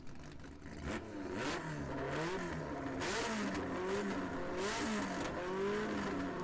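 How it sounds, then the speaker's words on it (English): A Honda Civic race car screaming to around 11,000 rpm on a track, heard from a distance as repeated rising engine sweeps with gear changes, a steady mid-loud roar throughout. "Damn, that Civic sounds good."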